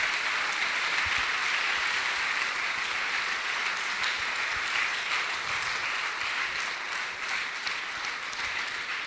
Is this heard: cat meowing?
no